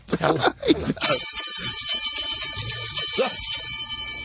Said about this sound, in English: He's got to ring his bell again.